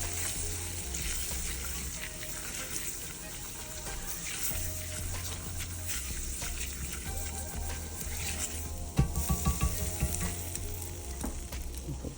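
A spoonful of fat and flour for a roux browning in a skillet, sizzling steadily while a utensil scrapes and stirs, with a louder burst of clatter near the end.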